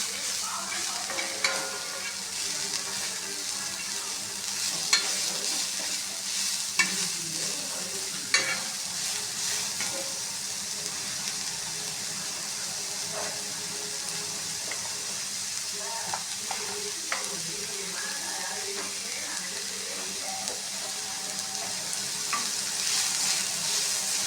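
Onions for onion dosa sauté in a pan with a continuous sizzle and frequent scraping stirs clicking against the metal, heard close and steady with no talk.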